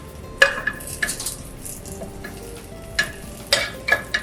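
Scrambled eggs and spinach cook in a pan with a soft, steady sizzle, broken by a few sharp clicks and taps of a utensil against the pan.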